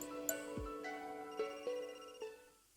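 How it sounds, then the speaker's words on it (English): Telephone ringing in the Another Code R video game, a synthetic tone repeating in several separate rings over a sustained electronic background, fairly soft, with no talk over it. "That's the phone."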